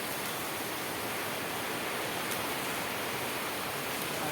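Heavy rain pours down in a steady, dense wash of noise that holds unchanged throughout, with no voices over it.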